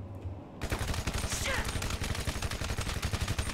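Rapid automatic gunfire aimed at aliens in a GTA 5 Halo mod, a dense, loud burst of rattling shots beginning abruptly and continuing without pause, with a voice speaking faintly underneath.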